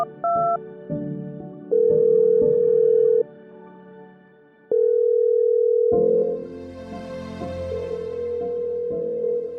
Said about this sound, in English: And so Linda called up Niels Jorgensen